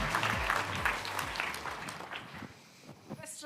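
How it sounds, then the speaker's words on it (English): An audience at a conference session claps for a speaker being introduced, a dense round of applause that fades away over a few seconds. "Please give Priscilla Radice a big round of applause."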